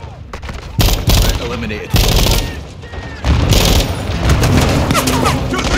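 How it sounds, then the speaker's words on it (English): Grenade explosions and rattling gunfire from the Call of Duty Modern Warfare 2 video game, with loud bursts and booms repeating through the clip while voices speak over the fighting. "Take cover! They're launching grenades!"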